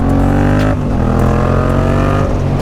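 A Yamaha MT-07 motorcycle engine revs loud and close, a rich throaty tone that dips briefly then climbs again and holds strong.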